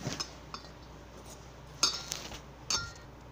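Utensil clinking against a bowl while maida flour, salt and oil are mixed for homemade tava pizza dough, with a few sharp metallic taps and scrapes scattered over quiet kitchen background, no talking.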